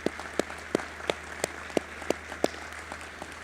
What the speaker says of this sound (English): Let's give a round of applause to our Citizens Emergency Response Team.